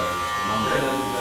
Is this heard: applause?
no